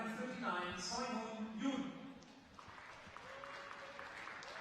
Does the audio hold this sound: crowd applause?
yes